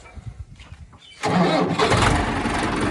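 A Mahindra Arjun Ultra 555 tractor engine cranks after a few quiet knocks and catches, roaring up loud and close into a rough, steady diesel idle.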